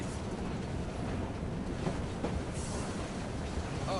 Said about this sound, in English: Oh, well, it's a noisy train.